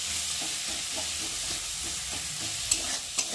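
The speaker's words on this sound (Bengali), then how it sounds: "মশলার সাথে টমেটো ভালোভাবে কষিয়ে নেব, যাতে টমেটোটা গলে যায়" Tomato cooking down with spices in a pan, a steady close sizzle of frying under repeated scraping stirs, with two sharper clinks near the end; no voices.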